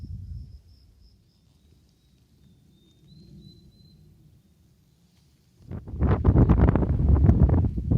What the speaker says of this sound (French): Je vais parler fort parce qu'il y a pas mal de vent